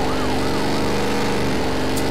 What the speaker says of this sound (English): there's cops in this game